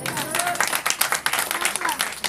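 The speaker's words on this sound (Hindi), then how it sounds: "एक बार हमारी बेटी के लिए जोरदार तालियां बजाओ।" A crowd claps loudly in a quick, uneven patter, with voices mixed in over the applause.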